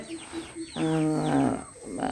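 Chickens and chicks peep and cluck nearby, with high chirps over a louder, drawn-out call in the middle.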